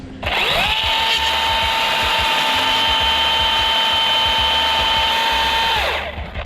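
A chainsaw making a back cut through a strong-wooded tree limb during tree rigging, a loud close steady whine that revs up, holds for several seconds, then drops off, with no voices.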